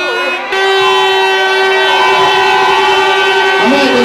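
Air horns blaring at a live music show, a loud sustained tone held for several seconds close by, with crowd noise underneath.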